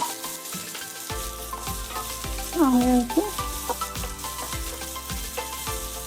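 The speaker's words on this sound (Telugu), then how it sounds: "ఇవి బ్రౌన్ కలర్ వచ్చే వరకు కొంచెం వేయించుకోవాలండి." Thinly sliced onions fry in a pan with a loud, continuous sizzle and crackle, stirred close up, with a short tonal squeak partway through and no talking.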